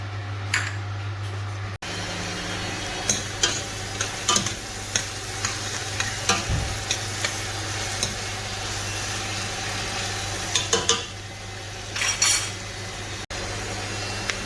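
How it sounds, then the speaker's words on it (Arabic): Onion and garlic sizzle in butter and olive oil for a meat-and-vegetable stew, a steady close frying hiss broken by repeated sharp clinks and scrapes of a utensil stirring the pan, with no talking. "حطيت زبدة وزيت زيتون، زبدة وزيت زيتون، وهي البصل والثوم"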